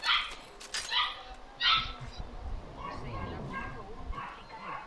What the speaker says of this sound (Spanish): Y el perro está ladrando